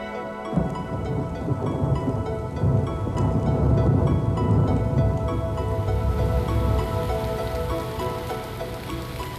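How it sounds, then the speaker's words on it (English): Rain of the short rainy season falling on the Serengeti plains, a dense, steady patter on the ground that swells slightly midway and keeps going without any voices. "Storm clouds begin to build and herald the season of short rains."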